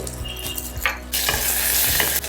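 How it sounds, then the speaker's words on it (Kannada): Mustard seeds spluttering in hot oil for a tempering, rapid crackling pops over a bright hiss that swells louder halfway through, close and with no voices. "ಈಗ ಸಾಸಿವೆ ಸಿಡಿತಾ ಇದೆ"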